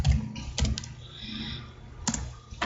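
Keys clatter on a computer keyboard while a password is typed at the MySQL command line, short quick bursts of clicks with brief pauses between them.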